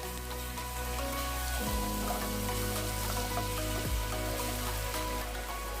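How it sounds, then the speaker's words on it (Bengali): Garlic and ginger paste frying in sunflower oil over a lowered flame, giving a steady, close hiss that stays even throughout with no one talking. "ফ্লেমটাকে কমিয়ে নিয়ে ঠিক এভাবেই ধীরে ধীরে ভাজতে থাকব যতক্ষণ না এর থেকে আদা রসুন বাটার সুন্দর একটা স্মেল বেরিয়ে আসে"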